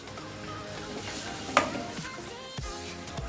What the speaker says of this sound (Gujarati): હવે આપણે આ બાફેલા બટાકા અંદર એડ કરી દઈશું.